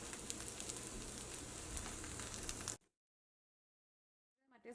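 Broccoli frying uncovered over medium flame in an open pan, a dense steady sizzle with crackling spatter that cuts off abruptly, followed by near silence and a faint brief stir of sound at the end.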